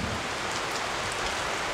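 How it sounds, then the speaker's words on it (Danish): Heavy rain pours steadily at a youth girls' football match, a loud, dense, continuous hiss of drops drumming on surfaces with no voices heard. "Pigerne søger ly i en af bilerne på grund af den kraftige regn."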